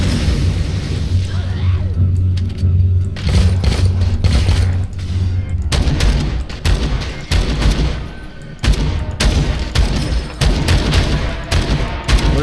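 Grenade explosions and gunfire from the video game Dead Rising 4 make loud, dense volleys and booms, with rapid crackling shots over a low rumble that runs the whole time. Someone talks over the action now and then.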